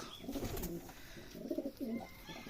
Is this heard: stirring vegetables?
no